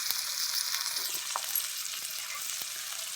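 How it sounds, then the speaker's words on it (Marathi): Sliced bitter gourd stir-fries in a pan, giving a steady close sizzle broken by light, irregular scrapes and taps of the spatula, with no talk. "आधी एक कारल्यात असं परतू घ्यायचं"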